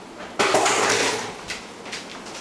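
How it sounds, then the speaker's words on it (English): Bacon strips dropped into a pan that has been warming for about three minutes give a sudden loud sizzle, which settles to a steady frying hiss with a few light clatters of metal. "Place this in the pan. It's been warming up."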